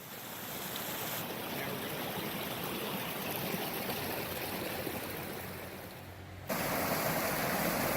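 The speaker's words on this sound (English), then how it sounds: "This is the creek that the trail goes into." Steady rush of creek water flowing beside a hiking trail on the Profile Trail to Callaway Peak in Pisgah National Forest, a continuous broadband wash that stays fairly even, with a brief dip and a louder surge near the end.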